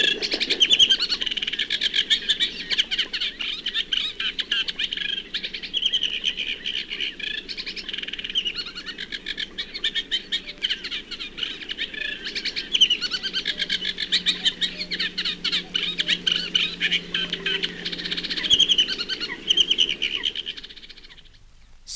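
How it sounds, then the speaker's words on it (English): A reed warbler sings in common reeds, a steady run of even, repeated chattering phrases, with coot and cuckoo calling faintly in the background throughout. "The song is one of many even, repeated phrases, here given against a background of coot and cuckoo."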